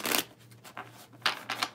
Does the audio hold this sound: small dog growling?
no